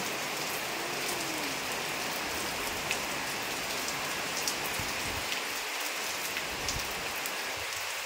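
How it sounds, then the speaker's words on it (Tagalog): Steady, dense downpour hissing across a surface, a constant broadband wash of heavy rain with no voices. "So ang lakas ng ulan ngayon"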